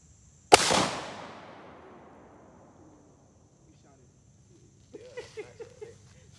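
A single 12 gauge shotgun fired outdoors, one sharp loud blast with a long fading echo, followed a few seconds later by a brief voice.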